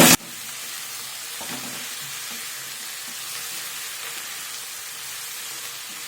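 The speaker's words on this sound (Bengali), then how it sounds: "পেঁয়াজকলিগুলো ভালো করে ভেজে নিব তেলের মধ্যে" Onion stalks frying in oil for an egg dish, a steady close hiss and sizzle with a spatula stirring and scraping through the pan, no voices.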